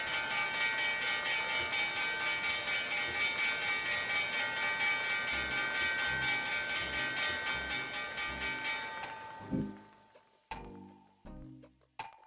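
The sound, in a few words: stock market opening bell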